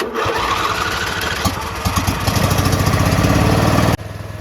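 A lawn mower engine, jump-started on a dead battery with starting fluid after a starter replacement, cranks and catches, then runs with a loud, steady, rising rumble before cutting off abruptly near the end.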